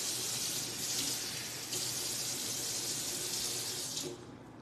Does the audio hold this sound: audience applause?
no